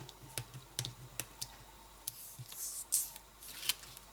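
Strips of easy-tear adhesive tape peeled off by hand during paper crafting, a few quiet sharp ripping ticks spaced apart, then a brighter crackly tearing burst near the end, close and soft with no voices.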